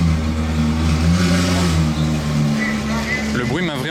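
Supercar engines rev loudly as the cars pull out of the Top Marques Monaco show, a deep sustained roar that swells and shifts pitch, ending in a rising rev.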